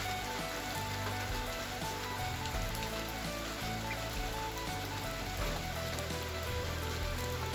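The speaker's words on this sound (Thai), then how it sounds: "แล้วฝนตก" Steady rain patters densely on a surface, a constant close hiss of droplets continuing throughout without pause.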